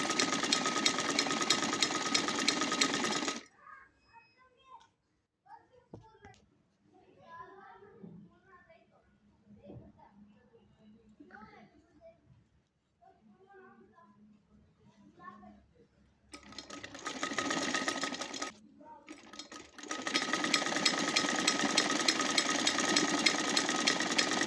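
An electric sewing machine stitches over gathered folds of a cloth baby cap for a one-to-three-year-old, running in loud, steady bursts at the start and end with someone talking in the quiet gap between.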